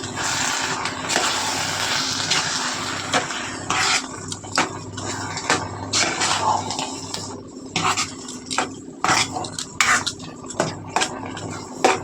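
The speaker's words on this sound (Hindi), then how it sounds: "लो फ्लेम में ही अच्छे से मिक्स कीजिए" Bottle gourd halwa stirred in a pan over a low flame, with repeated close scraping and clinking of a metal spoon against the pan in uneven strokes over a low background hiss.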